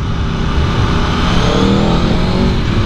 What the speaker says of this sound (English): Lots of grunt from this exhaust. I love it. It has a very nice sound.